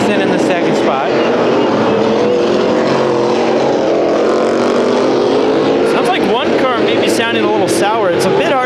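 Several figure-eight race cars roar continuously around an oval track at an outlaw 300-lap event, engines droning loud and close, with one engine running flat and sour; overlapping pitch sweeps rise toward the end as cars pass.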